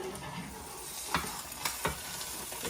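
Duck eggs fry in a Hexclad pan with a soft steady sizzle, broken by a few light scraping taps of a utensil, close by and without any talking.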